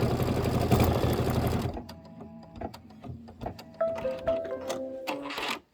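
A home embroidery machine stitching an autumn apple design runs loud and steady with a fast needle chatter, then stops and gives way to scattered clicks and short electronic beeps up close.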